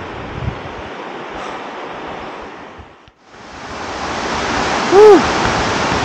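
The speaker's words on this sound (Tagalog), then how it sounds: "naririnig mo yung lagaslas ng mga agos dito ng ilog" A river's rushing water roars steadily and loudly beneath a bridge, a dense wash of flowing sound with wind buffeting the microphone; the noise briefly dips before surging back.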